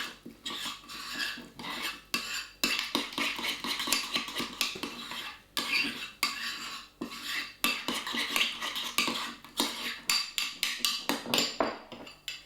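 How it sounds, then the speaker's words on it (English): Tomato tarte tatin ingredients being mixed in a bowl with a utensil, a close run of quick clinks, scrapes and knocks in uneven bursts, with no talking. "Give those a mix together."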